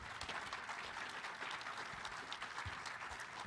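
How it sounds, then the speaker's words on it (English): An audience at a tribal health summit gives a round of applause to panelists: a thick, sustained crackle of many hands clapping, fairly quiet and continuous with no talking on top. "Please give a round of applause to our panelists."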